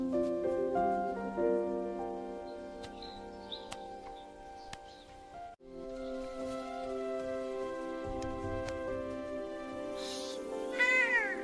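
A cat meows over a steady backdrop of tonal, music-like sound, ending with a sharper rising cry; no voices are heard.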